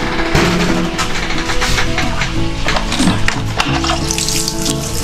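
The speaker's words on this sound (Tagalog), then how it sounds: "Malakas ang tubig." Strong, steady rush of water from a tap in a campsite restroom, continuous and close throughout with a dense broadband hiss and a few faint clanks.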